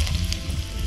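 Meat sizzling in a pan with garlic, a steady, close frying hiss over a short stretch, no voices.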